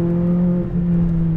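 A McLaren 570S on a race track holds a steady, droning engine note for a brief moment, a smooth, loud hum with a low tone and no spoken words.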